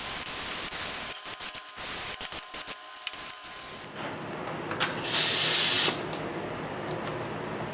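A spray gun lays down a coat of finish on a golf club coat rack, giving a single loud, steady hiss lasting under a second amid faint background clatter and handling noise.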